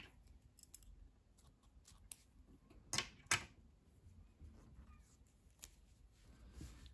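Scissors snip through crochet yarn with two quick, close cuts standing out from a faint, quiet background, no talking.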